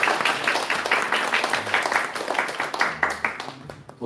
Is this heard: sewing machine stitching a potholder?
no